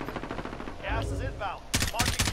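Rapid bursts of automatic gunfire in the video game Warzone, a fast rhythmic rattle that pauses briefly under a voice and then resumes with heavier shots.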